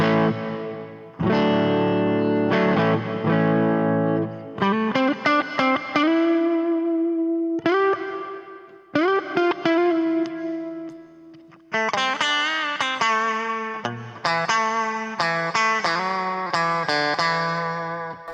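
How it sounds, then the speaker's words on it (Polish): Electric guitar through a Harley Benton DNAFx amplifier with hall reverb, loud overdriven chords and sustained single notes played in phrases that ring into a spacious wash, with no voices. "No i pogłosik hall."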